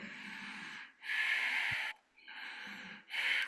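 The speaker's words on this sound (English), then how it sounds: "So the first thing, doing ujjayi breath. Try to listen to your breathing." Slow ujjayi breathing through the nose during a yoga session, heard close up as two long breaths, each a soft muffled inhale followed by a louder hissing exhale, alone with no talking.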